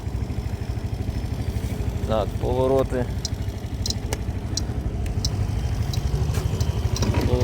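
A Suzuki Address 125S CF4MA two-seat scooter engine idles steadily with a rapid, even putter close by, while someone talks over it and faint beeps and clicks sound in the background.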